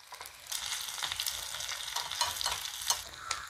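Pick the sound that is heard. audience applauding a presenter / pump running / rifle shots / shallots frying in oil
shallots frying in oil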